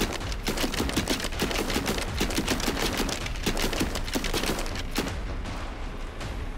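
Rapid, continuous bursts of gatling gun fire from the video game Sons of the Forest, a dense rattling stream of shots with brief gaps, loud and close throughout.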